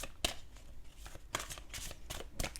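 Oracle cards being shuffled by hand during a card reading, a run of crisp riffling flutters and soft slaps in irregular bursts, close and fairly quiet, with no talking.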